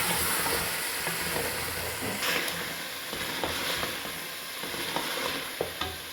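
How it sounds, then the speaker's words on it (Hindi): Whole spices with crushed coriander frying for biryani, a steady close sizzle with scattered stirring scrapes and clicks throughout, no talk. "तो इन सभी चीज़ों की मैं अच्छी तरह से करूँगी भुनाई।"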